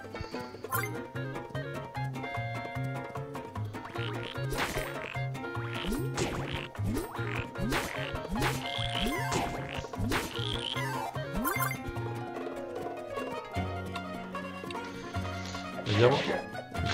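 Frogs croak in the video game Wonder Boy: The Dragon's Trap, a busy run of short croaks over steady game music with scattered hits and effects throughout.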